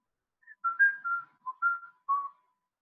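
A person whistles a short, bright melody of several clear notes, alone against silence.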